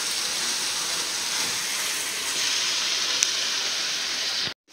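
Minced meat and onions fry in a pan, giving a steady, close hiss of sizzling with fine crackle throughout, ending abruptly in silence.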